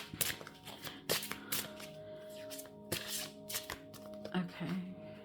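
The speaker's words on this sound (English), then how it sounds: "So we'll just do a quick little shuffle." Spirit Warrior Oracle cards being shuffled by hand, a quick run of crisp riffling and slapping bursts repeating over about five seconds, close and fairly quiet.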